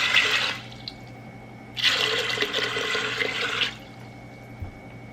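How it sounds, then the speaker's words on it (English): Water from a faucet pours into an Instant Pot over rinsed beans in a home kitchen, running in two bursts, a short one, a pause, then a longer steady fill, near and fairly loud. "I don't measure the water, I just do it like an inch above the beans in the Instant Pot."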